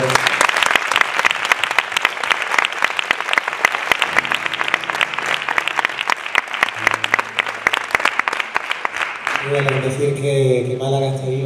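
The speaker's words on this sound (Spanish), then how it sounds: "Quiero un fuertísimo aplauso para Ángel," Loud, sustained audience applause in a Málaga venue, dense clapping throughout with a few cheers, before music begins toward the end.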